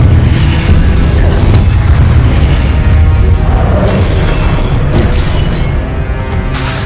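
Spell blasts like Confringo and Incendio boom continuously in Hogwarts Legacy combat, a loud, dense wash of explosive rumbling with occasional sharper bursts throughout.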